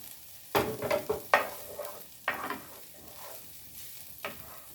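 Peas are tipped into a pan of sizzling egg and bacon fried rice, and spatula scrapes and tosses follow in irregular bursts over a steady, close frying hiss.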